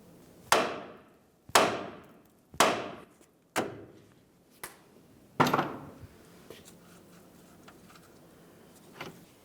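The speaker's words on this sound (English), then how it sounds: "Now we'll continue on with a hammer." Five sharp metallic hammer strikes on a steering knuckle of a Ford Transit Connect ring out at roughly one-second intervals, each decaying quickly, followed by a few faint taps after a pause.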